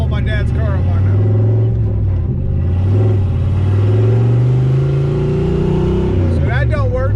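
A turbocharged stock-block Ford Foxbody Mustang engine revs loud and close, its pitch climbing steadily as the motor winds up, then dropping away.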